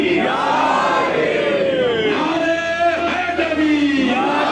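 A large crowd bellows a religious slogan in unison in answer to a preacher's Naara-e-Haidari call at a religious gathering, a loud, sustained rolling chant of many voices filling the whole moment.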